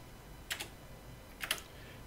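Two crisp key presses on a Soemtron ETR220, an East German Apollo-era desktop calculator, about a second apart, each a quick double click, close up over a faint quiet room hiss.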